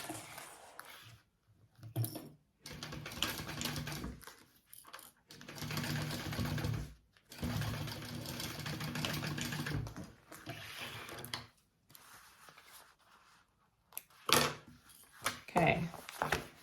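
A sewing machine bastes the zipper panel of a crossbody bag in several bursts of rapid, close mechanical stitching, broken by short pauses and handling clicks.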